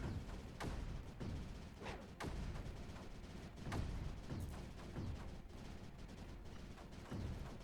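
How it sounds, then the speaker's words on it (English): Cannons fire repeatedly in the Creeper World 4 strategy game, a string of heavy booms at irregular intervals over a dense, constant rumble of battle noise. "Taking some hits here with these cannons."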